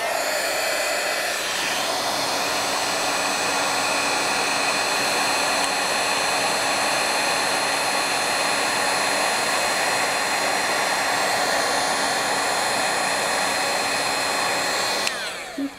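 A heat embossing tool blows hot air over embossing powder on a card, giving a steady, loud, hair-dryer-like whoosh and whine that runs unbroken almost to the end, with no talking.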